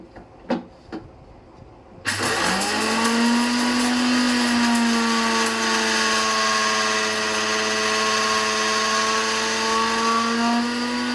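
A kitchen mixer grinder starts abruptly and runs at a loud, steady whine, grinding podi masala ingredients in its mixie jar with a sustained motor drone, preceded by a few sharp knocks.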